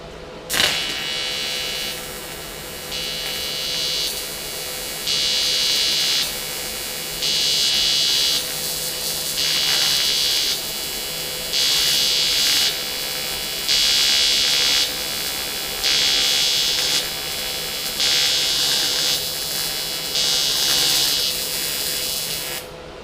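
Power grinder working filler on a boat's transom cover trim, a loud whining buzz that pulses in regular on-off bursts of about a second each over a steady background hum.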